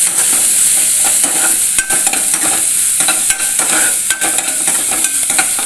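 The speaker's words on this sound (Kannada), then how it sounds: "ಈರುಳ್ಳಿ ಹಾಕಿ ಒಂದು ಸ್ವಲ್ಪ ಕಾಳಿಸ್ತೀನಿ" Onion sizzles steadily in hot oil in a pan along with curry leaves and garlic, while a spoon stirs it with repeated scraping knocks. The frying is loud and continuous and no one speaks.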